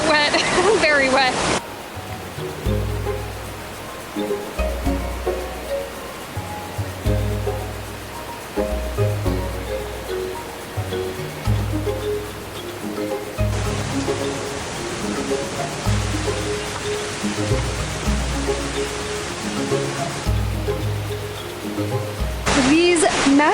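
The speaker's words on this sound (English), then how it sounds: "there are these roaring falls with this river" Roaring waterfall and river on a hike among massive rocks, a loud steady rush of falling water that fills the scene throughout, with someone talking over it at times.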